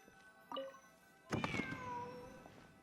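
A cat meows in the video game Genshin Impact: one short meow followed by a longer, drawn-out one, fairly faint and alone.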